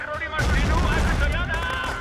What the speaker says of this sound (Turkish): çok pis vuruyorlar